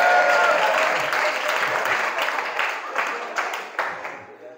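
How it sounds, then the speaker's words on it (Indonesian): Audience applause at a public speaking workshop for vocational high school students, a dense wash of many hands clapping that starts loud and gradually thins and fades over a few seconds. "tepuk tangan buat saya ya"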